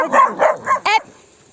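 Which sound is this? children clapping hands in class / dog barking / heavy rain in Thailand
dog barking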